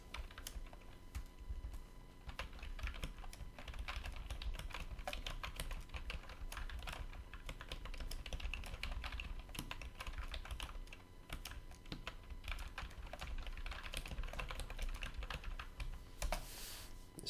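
Steady, continuous typing on a computer keyboard, with dense rapid key clicks close to the microphone, running at a fairly quiet level throughout with no speech.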